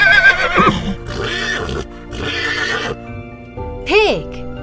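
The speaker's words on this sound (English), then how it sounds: "Horse." A horse whinnies, with rough, breathy calls in the first seconds and a clear, loud, rising-and-falling neigh near the end, heard close.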